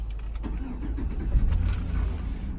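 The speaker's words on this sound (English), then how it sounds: "Now the car started. It started right up." A GMC Sierra truck engine cranks and catches close by, settling into a low steady idle rumble, with no one talking.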